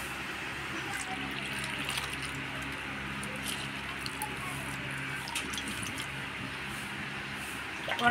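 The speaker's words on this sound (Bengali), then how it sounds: "গরম জল দিয়ে মাশরুমটা ভালো করে ধুয়ে নিলাম।" Mushrooms rinsed in hot water, with a steady wash of splashing and squishing water running throughout at moderate level, a brief louder splash at the very end.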